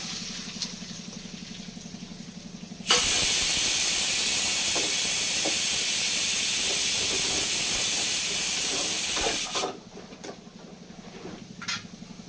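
Sliced onions drop into hot oil for a brain roast, setting off a sudden loud, close sizzling hiss that holds steady for about seven seconds before dropping back to a quieter crackle.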